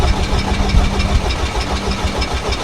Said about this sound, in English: we cranked it for 10 to 15 seconds without any weird noises